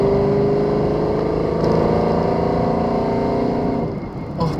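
A Mercedes C63 AMG engine drones loudly and steadily from inside the car while cruising on a highway, easing off slightly near the end.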